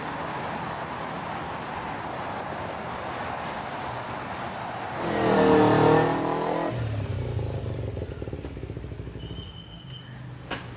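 A motorcycle engine revs up to a loud swell and then settles back to an idle, close by, with a faint background hum and no talking.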